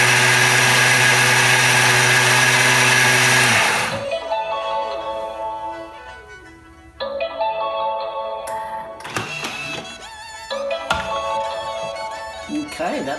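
A blender whizzes kimchi seasoning paste in a loud, steady, high whir for about four seconds, then stops. Quieter clattering and talking follow.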